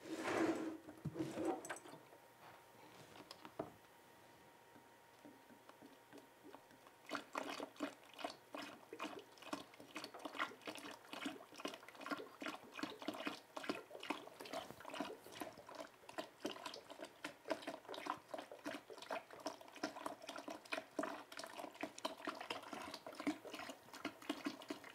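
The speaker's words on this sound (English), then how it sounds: "So now we're going to top up the fermenter to 23 liters." Grape juice pours into a wine fermenter during a top-up to 23 liters, a faint, steady trickle of liquid with soft knocks and clatter running throughout, heard fairly close.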